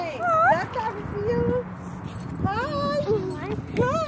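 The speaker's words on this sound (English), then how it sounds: "It's a stray dog." A stray dog in a Roblox game whimpers and yips in short high, wavering cries, several bursts over a few seconds, with children's voices chattering alongside.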